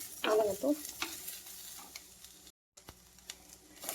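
Small onions sautéing in a pan for a South Indian pepper chicken curry, giving a steady low sizzle with a few sharp spatula scrapes and stirs early on and a brief gap of silence partway through.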